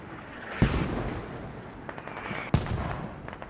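Two sharp, distant gunshot cracks ring out about two seconds apart over low ambient rumble in the tactical shooter SquadOps, with faint background activity between them.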